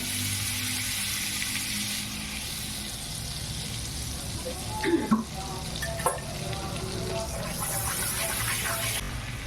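Butter and oil sizzle steadily for a paneer butter masala tempering, a continuous close hiss with a few soft clinks of a utensil against the pan midway.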